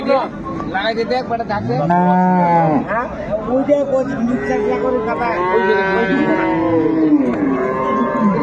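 Dairy cows and calves at a cattle market (haat) in Ambari, Dinajpur, moo loudly and repeatedly in long, drawn-out calls, with people talking faintly in the background.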